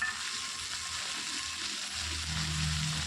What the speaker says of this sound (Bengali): বিনসটা দিয়ে একটু নাড়াচাড়া করে এর মধ্যে আমি দিয়ে দেব গ্রেট করে রাখা গাজর।